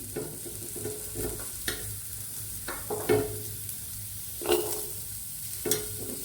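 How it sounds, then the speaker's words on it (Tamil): Onions sizzle in a hot kadai pan for a bitter gourd kuzhambu, with a steady frying hiss. A spoon stirs and scrapes the pan at irregular intervals, up close, with no talking. "சட்டி சூடானோடனே நான் அதில் வெங்காயம் போடுறேன்."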